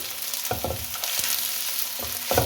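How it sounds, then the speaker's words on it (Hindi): Cashews fry with onions in a pan, a steady close sizzle broken by several scraping stirs of a spoon against the pan. "1 से 2 मिनट तक काजू भी इसके अंदर फ्राई कर लें"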